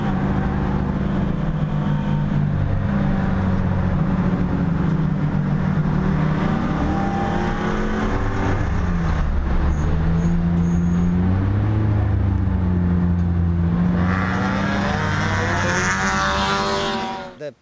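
Race cars at Sonoma Raceway, engines droning and revving with rising and falling pitch sweeps, loud and continuous for the whole stretch, ending in a brighter surge before a sudden cutoff.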